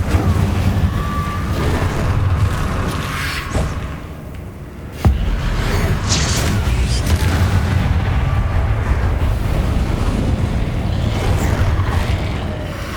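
An Incendio fire spell cast in Hogwarts Legacy, loud whooshing and booming bursts over a continuous roar, with a sharp crack midway and sustained rumbling throughout.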